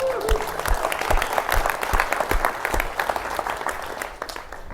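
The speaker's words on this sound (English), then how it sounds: "Give them a round of applause." Audience applause after a technology presentation, steady clapping from a crowd filling the room for several seconds, loud and continuous with individual sharp claps standing out.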